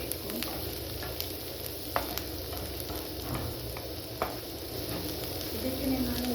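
Crushed garlic frying in a pan for Mangalore chicken curry, a soft steady sizzle with occasional faint clicks of stirring, fairly quiet and close.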